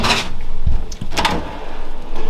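A large kitchen drawer in a 2021 Airstream Classic 30RBQ trailer slides and shuts, giving a short rolling rasp and a couple of close, sharp knocks in a quiet room.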